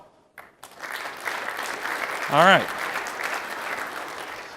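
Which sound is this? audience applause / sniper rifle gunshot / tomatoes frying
audience applause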